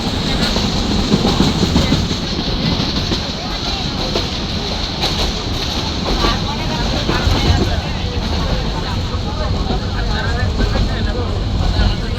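A passenger train running on a railway line near Dhaka, close to Cantonment station, heard from inside a carriage as a steady loud rumble with rattling, clattering wheels throughout, plus background voices.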